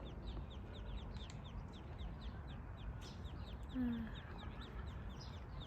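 Ducks at a park pond in France, with steady bursts of quacking and clucking over a busy outdoor background, plus a brief louder call near the end.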